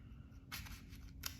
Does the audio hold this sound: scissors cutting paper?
yes